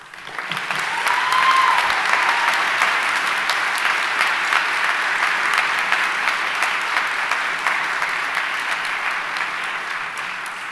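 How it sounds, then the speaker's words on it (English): Intense, sustained applause fills a hall as an audience at an anti-hate event claps loudly and steadily, a thick wash of clapping with no break. "that was an intense applause"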